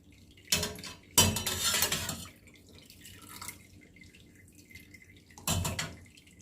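Boiled prunella and chrysanthemum tea leaves being drained in a kitchen, heard as three short bursts of splashing, pouring water with clinks of a pot or utensils between quieter dripping gaps.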